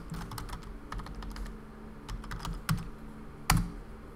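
Close, quiet keystrokes tap on a computer keyboard in uneven bursts, with a couple of harder key presses near the end and no speech.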